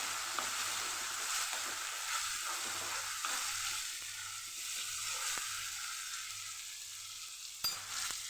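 Continuous hiss and crackle of green chillies frying in hot oil, close by, with occasional clinks of a utensil against the pan.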